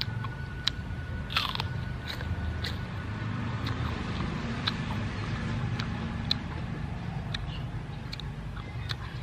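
Raw bitter melon eaten with Thai papaya salad gives repeated crisp, close-up crunches and bites at an uneven chewing rhythm, with no talking.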